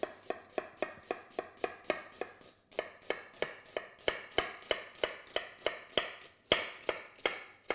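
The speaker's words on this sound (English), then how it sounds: "Cut it really nice and small." A knife chops half a peeled onion very small on a cutting board in a home kitchen while making burgers, with about twenty sharp, close, evenly spaced cuts in a steady rhythm and a brief pause partway through.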